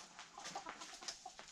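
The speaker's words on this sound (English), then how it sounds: "These chickens think it's a jungle gym in here." Domestic chickens at an off-grid Wisconsin homestead cabin indoors, making a run of soft, close clucks and short chirps over a faint background.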